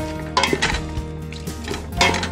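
One chopped onion tumbles into a pot for beef stew made from home-canned ingredients, with clattering metal, spoon knocks against the pot and a faint sizzle underneath.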